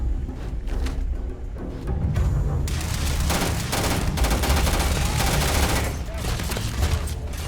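Dense bursts of rapid gunfire from a space shooter game, mostly overlapping and loud, with a quieter stretch before a sustained volley that runs steadily to the end.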